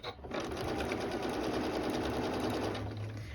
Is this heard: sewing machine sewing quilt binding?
yes